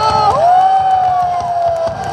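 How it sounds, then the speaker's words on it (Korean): An outdoor rally crowd at a Daejeon station square cheers and applauds for a lawyer, dense clapping and shouts under a loud sustained tone that wavers and then holds steady. "우리 변호사님 뜨거운 박수 한번 부탁드리도록 하겠습니다"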